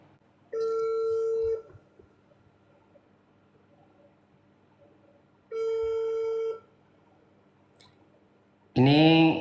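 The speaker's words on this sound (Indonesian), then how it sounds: "Saya berusaha mau telepon Teh Novi nih" Outgoing phone call ringback on a mobile: two long, steady electronic tones about four seconds apart against near silence, then a burst of a voice at the end.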